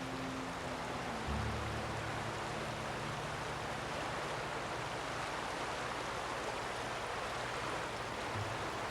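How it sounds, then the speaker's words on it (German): A waterfall in The Outer Worlds rushes in a constant, dense hiss that fills the whole stretch, with faint low tones underneath. "Geht's in den Wasserfall rein?"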